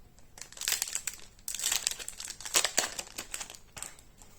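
A foil Yu-Gi-Oh booster pack wrapper from an Infinite Forbidden box is torn and crinkled open close up, with bursts of bright crackling separated by short pauses and no talking.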